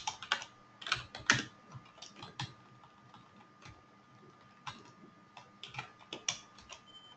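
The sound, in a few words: typing code on a computer keyboard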